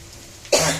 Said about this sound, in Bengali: ভিডিও স্টার্ট করার আগে আমার কাশি এসে যায়।